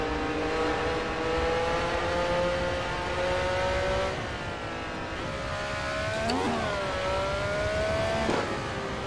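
A Ferrari 312T racing car being driven in a VR racing game along LA canyon roads, its engine droning steadily with shifting pitch, a couple of sharp crackling backfire pops breaking through near the end.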